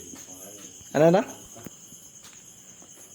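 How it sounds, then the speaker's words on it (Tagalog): Crickets chirp in a steady high drone at night before a coastal night spearfishing dive, faint and continuous under a brief spoken question. "Kung naririnig nyo medyo maano na yung mga tunog ng kuliglig."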